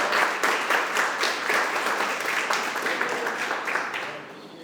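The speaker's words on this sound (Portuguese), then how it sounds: "Quem está feliz com Jesus, dê uma salva de palmas para Jesus." A church congregation claps together in a loud, rhythmic round that swells and pulses throughout, easing slightly toward the end.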